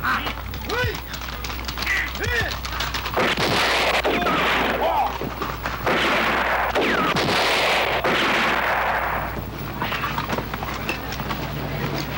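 Gunfire rings out in a rural village scene from a Filipino action film, several sharp bursts in quick succession over a dense, steady background, with voices heard early on.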